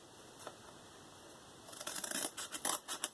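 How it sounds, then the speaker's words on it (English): Scissors cut through a piece of material, first a few faint snips, then a quick run of crisp, close cuts near the end over quiet background. "So I'm going to cut this piece."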